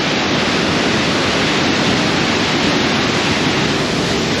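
Heavy water pours down a canyon waterfall near Leukerbad, Switzerland, a steady dense roar filling the space without a break.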